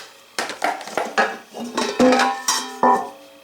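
Metal Stanley and MSR Alpine camping cook pots clank and ring as they are nested and handled, a series of close, sharp metallic knocks with lingering ringing tones and no talking.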